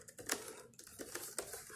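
Keys tapped on the keyboard of a Chuwi Lapbook SE laptop, a quiet run of light, uneven clicks close by, with no voices.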